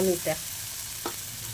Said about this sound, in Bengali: আলুটা দিয়ে আমি আবার খানিকক্ষণ ভালো করে নেড়ে চেড়ে ভেজে নেব